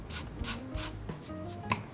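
Paper edges on a decoupage cachepô are rubbed smooth by hand, giving a few soft, rhythmic scraping strokes, close and faint, with no talking.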